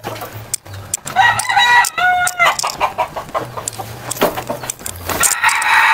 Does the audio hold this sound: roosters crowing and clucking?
yes